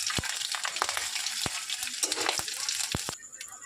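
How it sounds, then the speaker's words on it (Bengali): Whole spices tempering in hot oil for a taro and fish curry, a steady bright sizzle with scattered sharp crackles and pops running close and continuous throughout. "তেলটা গরম হলো, এতে ফোড়নগুলো দিয়ে দিলাম"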